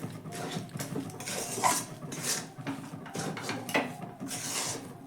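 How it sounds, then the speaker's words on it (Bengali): Rice flour being stirred into water in a pan over a lowered gas flame to make dough, with steady scraping and clinking of utensil against the pan, close and continuous. "এবার অল্প অল্প করে চালের গুঁড়ো দিয়ে আমি কিন্তু এই জলের মধ্যে পুরো চালের গুঁড়োটাই ঢেলে দিচ্ছি"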